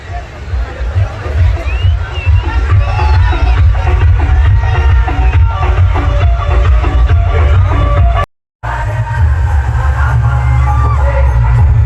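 A large crowd at a political rally and Dahi Handi event in Paratwada claps and cheers loudly and continuously, with whoops and yells over a dense roar, broken by a brief dropout near the end before the noise resumes.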